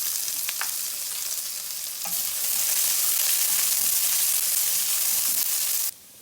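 Onion and minced ginger fry in a hot pan, giving a steady, close sizzle with stirring that swells after about two seconds and stays loud and even until it cuts off near the end.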